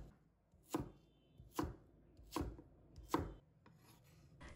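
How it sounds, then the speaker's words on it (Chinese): A kitchen knife chops through food on a board in four evenly spaced, crisp strikes, close and clear against near silence, no voices. "然后切成小块，千万不要切得太小"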